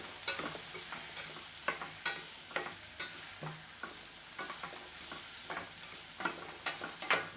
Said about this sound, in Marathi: सगळं एकजीव करू मसाला आणि भोपळ्याचा.